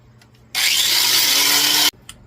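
A grinder strips powder coating from a small steel camp axe head: a close, loud, steady high-pitched grinding whine lasting over a second, starting and cutting off abruptly, with faint handling noise around it.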